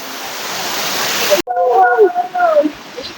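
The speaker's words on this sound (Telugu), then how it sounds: "ఇది చిన్న వాటర్ ఫాల్స్ గాయస్" A small waterfall at Tiryani rushes in a steady, loud roar for over a second, then cuts abruptly to a person talking close by.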